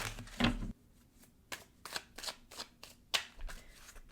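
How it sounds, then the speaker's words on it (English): Tarot cards being shuffled and pulled, a riffling burst at the start followed by a quiet gap, then a series of separate crisp card snaps and slides, close and clear. "They want me to keep pulling cards, which usually doesn't happen, but they do want me to keep pulling cards"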